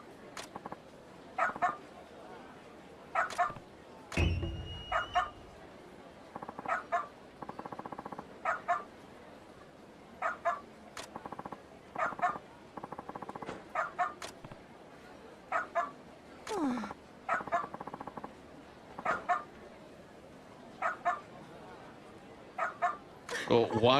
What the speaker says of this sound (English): Well, why is he barking?